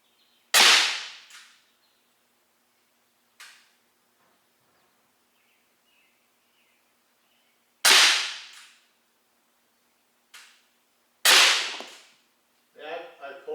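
Three sharp, loud cracks from a Gamo P-23 CO2-powered .177 caliber pellet pistol firing indoors, each shot followed by a short fading tail and separated by several seconds, with faint clicks between shots.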